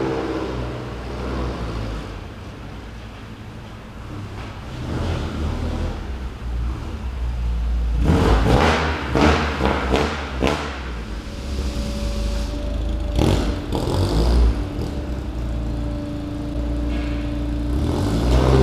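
A blue car driving up close by, its engine a loud, steady hum that swells and grows busier midway with clattering bursts as it approaches, then settles into a steady drone.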